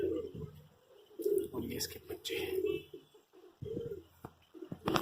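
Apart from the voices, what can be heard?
pigeons cooing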